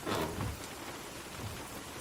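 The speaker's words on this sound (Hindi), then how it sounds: "बारिश देख रही हो?" Steady rain pouring down during a storm, a dense, even wash of falling water with a soft low rumble at the start, with no talking.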